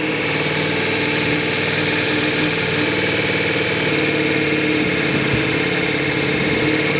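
A motorcycle engine runs steadily near the microphone with throttle held during riding practice for circles and figure-eights around cones, a loud continuous hum with only slight changes.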